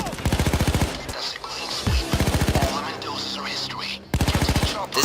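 Bursts of automatic gunfire ring out in the Payday 2 video game as players run up shooting at police, loud rapid rattling volleys broken by short pauses, with faint talk and game sounds between them.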